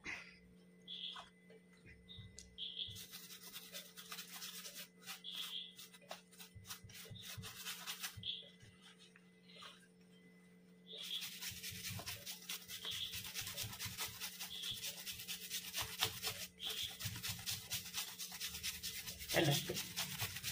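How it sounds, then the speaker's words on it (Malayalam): Toothpaste is scrubbed into a stain on cloth, producing repeated soft, rasping rubbing strokes in quick rhythmic bursts over a faint steady hum, fairly quiet, close and with no speech. "പേസ്റ്റ് തേച്ച് തുടങ്ങിയപ്പോൾ തന്നെ എൻ്റെ ഒരു മാറ്റം കാണുന്നുണ്ട്."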